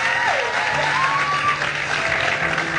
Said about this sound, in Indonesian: tepuk tangan dulu dong untuk Jessica Iskandar